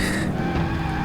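A racing car's tires skid and squeal in a sustained, loud screech as an opponent spins out in Project Gotham Racing 2 on Xbox, with engine roar underneath.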